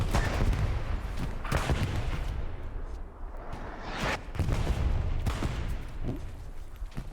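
Gunfire from a machine gun position in the WWII shooter Hell Let Loose, with loud, dense bursts and shots that come and go in waves amid battlefield noise and no talk.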